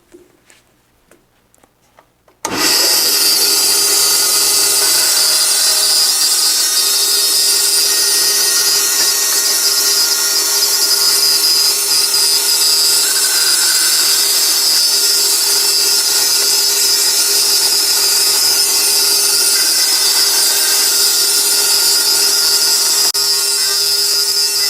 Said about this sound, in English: even cut on the bandsaw using a simple miter gauge and the simple factory fence on this saw